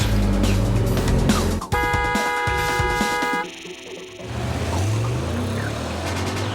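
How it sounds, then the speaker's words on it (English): Real cars recorded close up for a racing video game, with a loud, steady engine and road roar, a brief tonal horn-like blare midway, then a drop and the rumble returning. "We also do sound recordings of the actual cars."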